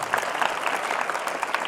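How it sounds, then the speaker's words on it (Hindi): Schoolchildren clap loudly together at a school eye awareness event, a dense, continuous burst of applause filling the room throughout. "जोरदार तालियां।"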